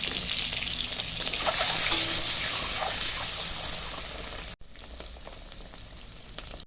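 Ginger, chili and cumin spice paste frying in a pan, a steady broad sizzle that stays loud and close for a few seconds, then drops abruptly to a quieter, continuing hiss.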